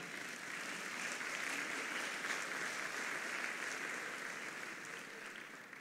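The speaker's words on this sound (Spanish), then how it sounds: "Dale un aplauso al Señor" Sustained applause from a large audience at a church marriage congress, a continuous wash of clapping heard at a moderate distance without pauses.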